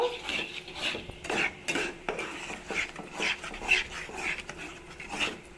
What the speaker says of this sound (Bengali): এবার আমি নাড়াচাড়া করে সুজির একটা ডো তৈরি করে নেব।